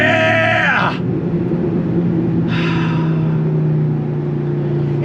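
A Dodge Ram SRT-10 Viper truck's V10 engine pulls hard in second gear, a loud close roar with rising tone that drops off near one second, then surges again, with no voices.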